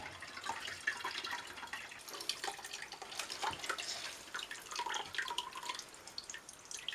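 Liquid from apple mash drips and trickles as the mash is squeezed through cloth, a faint, close patter of irregular drops and small splashes that lasts throughout.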